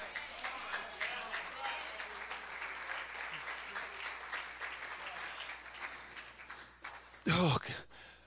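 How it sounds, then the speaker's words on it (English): A church congregation claps and applauds continuously, a dense wash of many hands close by that swells and fades, ending with a sharp burst of noise near the end. "I think we ought to clap again."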